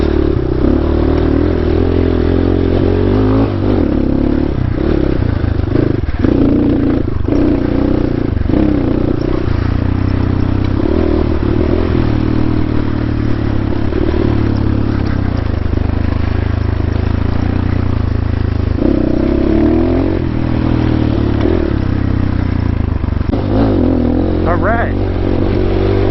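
A dirt bike with a dirty air filter runs continuously on a muddy canyon single-track trail, a loud, close engine drone with rough uneven revving and occasional clattering and scraping throughout.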